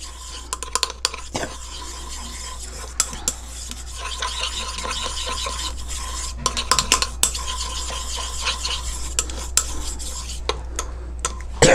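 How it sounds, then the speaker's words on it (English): A utensil steadily stirs homemade coconut oil lotion in a bowl, with soft continuous scraping and swishing, scattered sharper clicks against the container, and a low constant hum underneath, no voices. "So you continue mixing."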